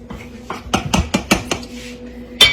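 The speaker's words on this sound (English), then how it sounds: "I'm just mixing it all up together like that" A metal spoon clatters against a bowl while stirring cake-style batter, giving a run of about seven sharp, close clinks in an uneven rhythm, then a pause and one last louder knock.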